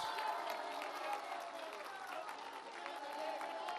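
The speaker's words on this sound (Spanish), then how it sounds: "Un aplauso para ellos." A crowd applauds in tribute to migrant workers at the opening of a Banco del Bienestar branch in Acambay, State of Mexico; steady, dense clapping with scattered cheers runs throughout, moderately distant, with voices mixed in.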